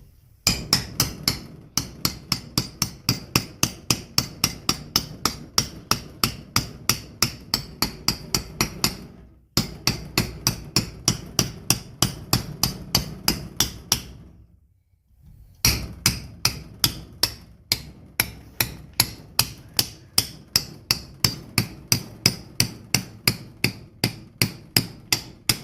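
Hammer strikes drive a rope rear main seal into the bearing cap of a HEMI 6 engine, in rapid regular blows, close and sharp, in three runs separated by short pauses.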